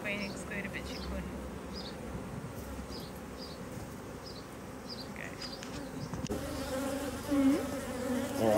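Honeybees buzzing steadily around an open HiveIQ hive during an inspection with the frames pulled out, a close, dense drone throughout with faint movement and handling noise.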